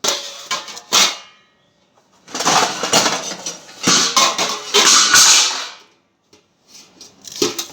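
Pots and dishes are scrubbed by hand, with close, intermittent bursts of scraping and clattering separated by short quiet gaps.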